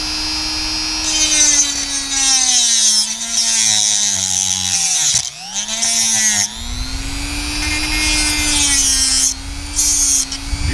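A WEN rotary tool on speed setting 2 grinds metal and throws sparks, a loud close steady high whine with grinding rasp that dips briefly midway before resuming.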